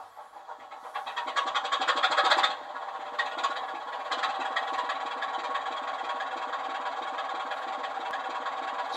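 Model D5000 all-green Sutton diesel locomotive on a layout, its engine sound rising to a louder rumble, then settling into a steady, fairly quiet idle throb, continuous and without voices.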